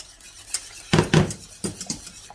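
A whisk knocks and scrapes against a pan of flour and milk sauce in a few quick, loud metallic strokes, close and alone.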